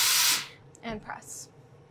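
A steam iron presses a fabric seam on a sewn field bag, giving one short, strong hiss of steam at the start before the room goes quiet and a voice speaks briefly.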